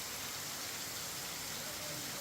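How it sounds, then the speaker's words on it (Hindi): Steady rain falling at the onset of the rainy season in an Indian city, a soft continuous broadband hiss holding evenly throughout without any clear individual drops. "बारिश का दौर शुरू हो गया है"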